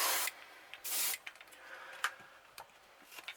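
Airbrush spraying paint onto a golden perch crankbait, two short hissing bursts near the start followed by quieter clicks and small taps.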